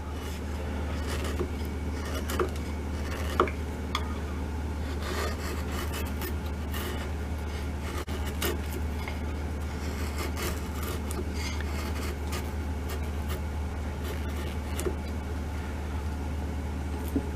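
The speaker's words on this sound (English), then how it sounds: "sometimes when I have larger areas here, I'll just work it with the chisel. You can remove a bigger chip with the chisel." A chisel shapes the wooden fore-end of an M1912 Norwegian Krag carbine, giving repeated rough scraping and shaving strokes over a steady low background hum.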